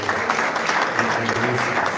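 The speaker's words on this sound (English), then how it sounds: "let us clap for them" A gathering claps steadily for a couple being blessed at a family event, a continuous wash of hands with a low murmur of voices beneath.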